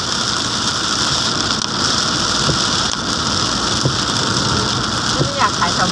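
Steady rain pours down during a storm, a dense continuous hiss with faint patters and drips, holding at an even level throughout.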